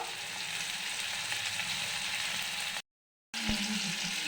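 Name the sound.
frying ginger, tomato and green chillies in pan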